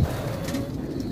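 Pigeons cooing in a loft, low soft murmuring coos rolling steadily through the whole moment at close range, with no voices over them.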